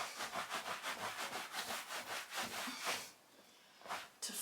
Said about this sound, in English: rub this a little bit